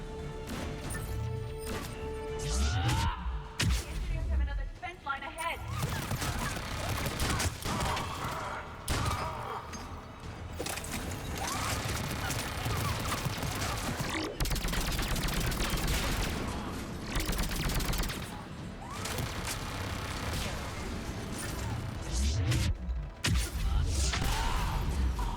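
Automated turrets in Mass Effect 3 pour out relentless gunfire: loud, continuous volleys of shots and impacts crash together for the full stretch, with only brief dips between bursts.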